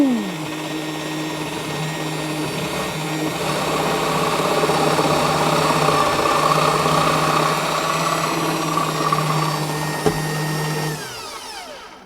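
A pillar drill with a sharp bit spins up and bores a 12 mm hole from the top into a guitar body, a steady motor whine with a rising hum of cutting before winding down at the end.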